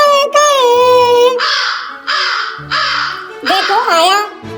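A children's song about a black crow, where a singing voice imitates the crow's caw in loud, drawn-out, repeated calls over a simple musical backing.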